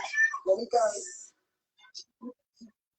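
Cat meowing in a few short, separate calls, faint and close, after people talk over the start with a voice among them.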